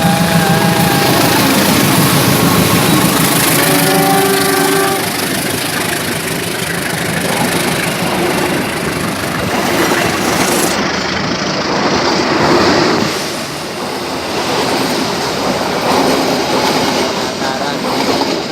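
A Penataran passenger train rumbles past close by, a loud steady roar of rail wagons and engine that swells and then eases as it goes, with voices faintly heard nearby.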